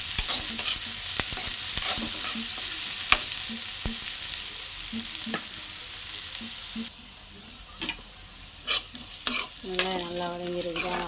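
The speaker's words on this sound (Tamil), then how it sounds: "நல்லா வதக்கிக்கலாம். வெங்காயம் நல்லா வதக்கட்டும்." Onions sautéing in a pan while a utensil scrapes and stirs them in steady, repeated strokes under a continuous sizzle, with a short burst of louder clatter near the end.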